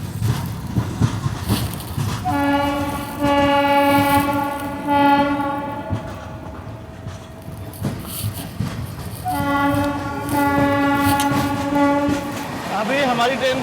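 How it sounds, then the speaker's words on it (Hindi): Hazur Sahib Nanded–Santragachi SF Express (12767) running at speed, with rhythmic rail rumble and two long, loud horn blasts, one early and one later, over steady wheel noise. "अभी हमारी ट्रेन स्किप करने जा रही है वडोदरा रेलवे स्टेशन को।"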